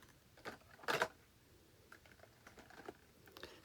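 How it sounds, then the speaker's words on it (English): Small tubes of paint being gathered and put away after gel-print landscape painting: faint, close clicks and light plastic taps scattered over a few seconds, with one louder clatter in the middle. "I'm putting my little paints back away"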